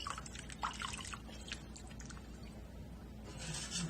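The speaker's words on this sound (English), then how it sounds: "Let's get some water in them." Water is poured and dribbled into the rotary valves of a French horn during cleaning, producing faint trickling, gurgling and dripping over a low steady hum, with small splashy bursts near the start and end.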